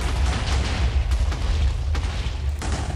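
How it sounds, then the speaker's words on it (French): Minecraft explosions go off one after another, a loud continuous rumbling boom with deep low-end roar and a few sharper bursts, without speech. "Ça explose de partout."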